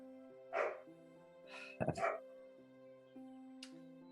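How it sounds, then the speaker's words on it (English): A dog barks in a few short bursts over a steady background tone, with quiet pauses between the barks. "Hope you like the sound of barking."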